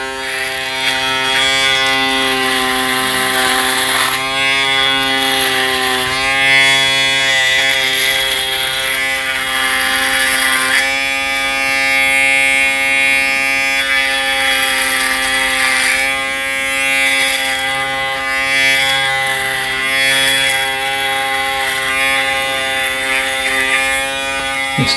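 An Aberlite Touch 2 electric head shaver runs steadily and close up, a continuous buzzing whir with a raspy texture that shifts slightly as the head is moved across the skin, with no talking.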